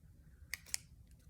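Small scissors snipping paper for a craft project, two quick crisp snips close up and faint against a quiet background.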